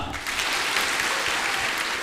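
A university orientation audience claps together on cue, a steady dense wash of applause filling the whole stretch at an even level.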